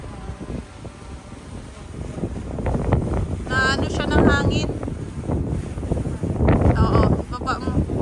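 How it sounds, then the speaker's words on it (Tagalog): Gusty wind buffets the microphone outdoors while a beginner flies a DJI Mini 3 Pro drone, rough and continuous with swelling gusts, under brief voices talking. "Medyo mahangin kaya malikot siya."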